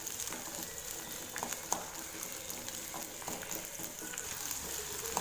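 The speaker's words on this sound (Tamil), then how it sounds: "பூண்டு சேர்த்துட்டு பூண்டு நல்லா வதக்கி விடுங்க." Garlic sizzles and crackles in hot oil on top of sautéed shallots for a garlic kuzhambu, a steady close frying hiss with occasional stirring clicks and no voices.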